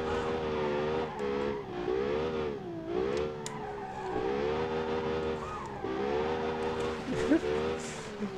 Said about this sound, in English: I do 90 degree drifts with this thing almost.